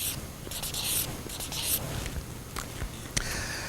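A pen scratches out a number on paper in a few short, faint strokes, close up, amid soft background noise.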